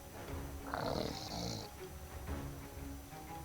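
A voice imitates a skeleton's rattling snore, a raspy, gurgling drawn-out breath at moderate loudness with a faint hiss, over a background murmur.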